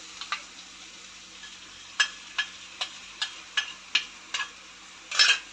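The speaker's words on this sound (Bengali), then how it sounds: "কমিয়ে দিয়ে দইটাকে নাড়তে হবে এইভাবে" Yogurt and spices being stirred in a pan over low heat for jackfruit biryani, a series of about eight sharp spoon scrapes and taps at a steady rhythm over a soft background sizzle, close and fairly quiet, with no talking.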